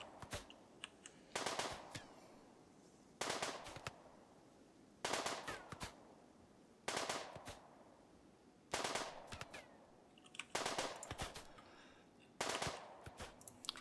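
Gunfire during shooting practice in the Rimworld video game: about seven short bursts of rapid shots at regular intervals, fairly quiet and alone without speech.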